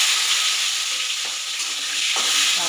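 Tomato tipped into hot oil already seasoned with cumin seeds, bay leaf and whole garam masala for a Bengali pulao ghonto, giving a steady, loud broadband sizzle with two brief surges as pieces hit the pan.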